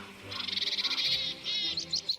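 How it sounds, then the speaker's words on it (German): A Caucasian black grouse calls in the Caucasus mountains, giving a quick series of bright, bubbling chirps followed by a few shorter notes, close and clear with no voices. "den kaukasischen Großhuhn"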